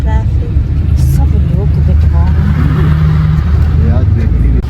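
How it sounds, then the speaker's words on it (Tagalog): Road traffic in the Philippines under a drizzle, with cars passing by as a steady, loud engine and tyre rumble that continues the whole time, while people talk over it. "Traffic."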